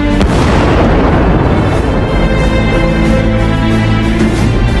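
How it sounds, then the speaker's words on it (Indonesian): A loud, sustained booming roar fills the whole clip, like a heavy explosion with dense rumbling debris and no pause. "Terdengar suara ledakan dan teriakan kekalahan pasukan Belanda"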